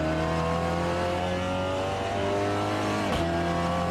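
A Peugeot 308 RCZ racing cup car pulls hard on the Tsukuba circuit, its engine note loud and close, rising steadily with a brief dip near the end and no talking.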